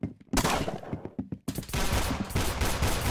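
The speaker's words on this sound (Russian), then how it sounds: "Там стрельба, побежали туда." Bursts of rapid gunfire in the video game Roblox Arsenal crackle loudly, first in short broken volleys, then in a dense sustained stretch of shooting.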